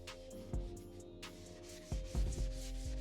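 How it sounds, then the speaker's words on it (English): Steady rubbing and scraping of sandpaper on wood, close by, with a few louder knocks and strokes in an uneven rhythm. "And then we're gonna continue with the sanding."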